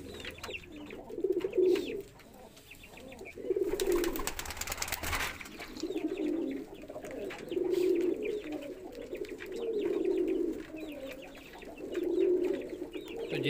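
Roller pigeons kept for breeding coo steadily in soft, low, rolling phrases that repeat every couple of seconds, with faint chirps and one brief noisy burst in the background.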